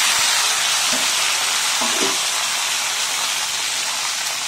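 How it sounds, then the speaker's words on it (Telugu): Tomatoes hit hot oil in a pan where chillies are already frying, giving a steady, close hiss and sizzle throughout with a few faint clinks from stirring, and no voices. "ఇప్పుడు ఇలా ఫ్రై అయిన దాంట్లో మన మెయిన్ ఇంగ్రీడియంట్ అయిన టమాటోస్ అనేవి వేసుకుందాం"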